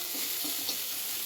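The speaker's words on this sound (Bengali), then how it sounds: "অবশ্যই আঁচ কমিয়ে কমিয়ে ভাজবেন যাতে লেগে না যায় নিচে।" Split red lentils fry on low heat in a pan, a soft steady sizzle with faint stirring scrapes, brief and fairly quiet.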